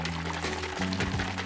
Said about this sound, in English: And we're just gonna pour the dye into the water.